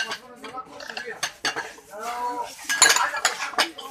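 Heavy, deep ceramic bowls being handled at a bulk china market in Alexandria, giving sharp scattered clinks and knocks against each other up close, with some background chatter.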